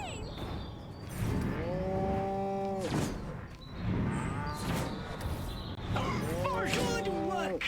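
Several drawn-out cattle moos with a synthetic, game-like tone from the video game Destroy All Humans!, repeating in bursts over a steady background, with some voices in the mix.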